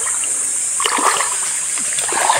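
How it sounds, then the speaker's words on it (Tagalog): Cold water from a waterfall runs and splashes steadily at a farm property, a constant hissing wash with scattered small splashes and drips close by. No voices. "Kasi ito po yung ano ng falls. Tubig ng falls."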